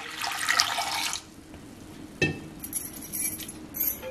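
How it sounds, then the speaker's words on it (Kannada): Water poured over a cup of washed toor dal inside a pressure cooker makes a short rushing splash for about a second, followed by quieter metallic clinks and faint handling noise. "ಅದಕ್ಕೆ ಮುಳುಗುವಷ್ಟು ನೀರು ಹಾಕ್ತಾ ಇದ್ದೀನಿ"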